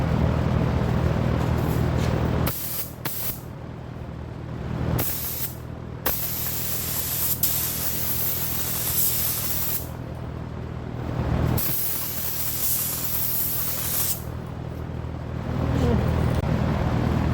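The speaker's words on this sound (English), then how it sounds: "I'm going to do a quick test spray on this paper and see what it looks like." An Aeropro A610 paint gun test-sprays urethane paint onto paper, a loud steady hiss of atomized spray in several bursts with brief pauses between, with a fan humming in the background.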